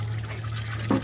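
Spring water runs steadily from a natural source into plastic gallon containers, a continuous trickling splash with a low hum underneath and a slightly stronger gush near the end.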